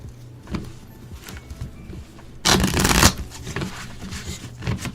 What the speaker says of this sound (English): I'm gonna just shuffle these and let whatever falls out.